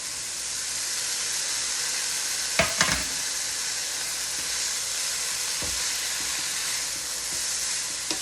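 Bean sprouts and carrots frying in a pan for lumpia togue filling: a constant bright sizzle and hiss with a few sharp stirring scrapes, close and alone.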